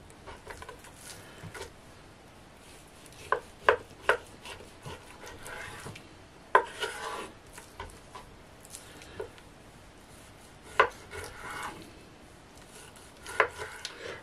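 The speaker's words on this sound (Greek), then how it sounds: "Αφού κόψαμε το κρέας μας" Knife chopping a piece of pork neck on a cutting board in a home kitchen, with scattered sharp chops and irregular thuds over faint rubbing and scraping, fairly quiet and close, no speech.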